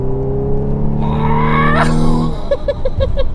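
Audi B8.5 S4 engine revving hard at full throttle, a rising harmonic whine climbing to a sharp peak, then dropping into a rhythmic pulsing exhaust burble, loud and close.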